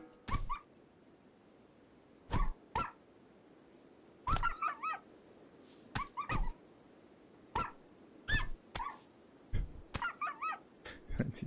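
Dogs whimpering and yelping in the Rimworld video game, short sharp cries in scattered bursts over a quiet background hum.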